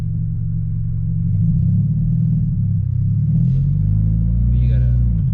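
A manual car fitted with a racing clutch rumbles as a learner driver feathers the gas, the engine holding a deep, steady drone that swells slightly as revs rise, with a voice talking briefly over it.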